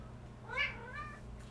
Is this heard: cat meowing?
yes